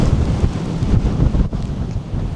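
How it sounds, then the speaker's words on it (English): Strong gusty wind buffets the microphone outdoors on a hilltop, a loud rumbling roar that surges and dips briefly, with no talking. "Wow, the wind is getting really gusty now."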